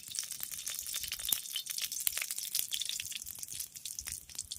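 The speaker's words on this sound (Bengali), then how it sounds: "তেল গরম হয়ে গেলে তেলের মধ্যে দিয়ে দিচ্ছি একটা শুকনো লঙ্কা আর পাঁচ ফোড়ন" Dry red chili and five-spice seeds sizzle in hot mustard oil in a wok, a steady crackling hiss with scattered sharp pops, close and continuous.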